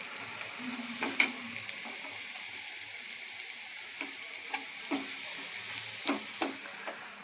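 Fried onions, already browned red, being stirred and mixed in a pan for a pangas fish curry: a steady soft sizzle with scattered spoon scrapes and taps, fairly quiet and alone.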